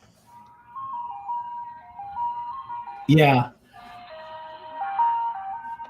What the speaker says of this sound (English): The ice cream truck goes.